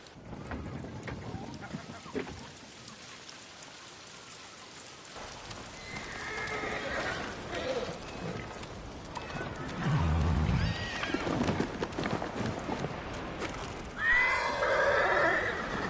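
A horse whinnies loudly in the video game Ghost of Tsushima over rain-like background noise and hoof clatter, with a second neigh near the end; people speak at times.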